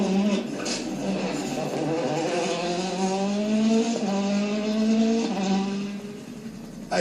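A Citroën rally car on hard tyres, driven by Dani Sordo on an Alsace asphalt stage, roars past loud and near, its engine note climbing through gear changes with rising revs and gritty tyre noise.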